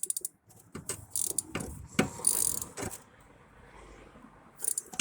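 A ratchet socket wrench clicks on a Jeep oil pressure switch in a cramped engine bay, close metallic clicks and clanks in short uneven bursts, with a faint high whine at times and no talk.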